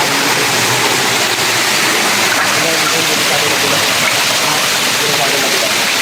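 Spring water flows from a natural source over rocks in a steady, broad rushing splash, loud and continuous throughout with no breaks.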